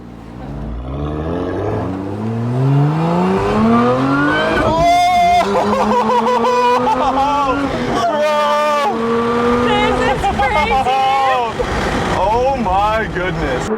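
A high-revving sports car engine pulls hard through the gears while driving, loud and close, its pitch climbing and dropping with each shift and crackling on the downshifts, with excited talk over it.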